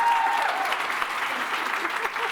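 An audience at a London women's event applauding the speakers, a sustained, dense round of clapping from a sizeable crowd, even and loud throughout.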